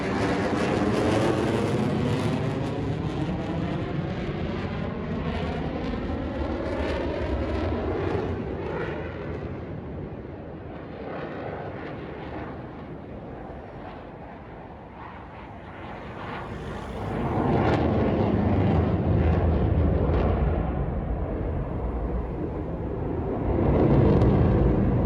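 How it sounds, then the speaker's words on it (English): Swiss Air Force jets roar over Lake Geneva during an air show, a loud sustained broadband rumble that dips briefly midway, then surges again as more aircraft pass close overhead. "Jet planes roaring over the lake, synchronized perfectly"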